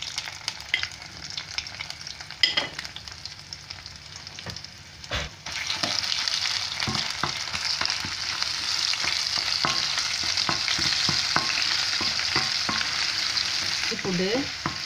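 Ginger, garlic, black pepper and curry leaves sauté in a pan, giving a steady broad sizzle with scattered clicks of stirring, louder after the first few seconds and continuing alone.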